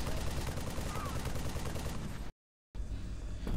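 Gunfire in the video game Halo 4, dense rapid shots rattling steadily for about two seconds, then a brief dropout before fainter game sound resumes.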